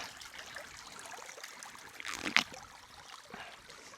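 Clean mountain water trickles softly in a small open stream through boggy ground, a faint steady burble with one brief louder splash near the middle, no voices.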